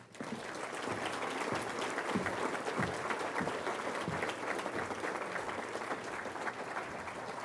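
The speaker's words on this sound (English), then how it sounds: "So let's give all of our recipients another round of applause." Sustained audience applause for award recipients at the Poinsettia Awards, dense steady clapping from a sizable crowd filling the whole span at even loudness, with no talk over it.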